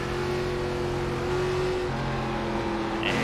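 An ARCA stock car engine drones steadily in iRacing on the full Tsukuba circuit, its pitch dropping as it downshifts partway through, loud and continuous with no talk.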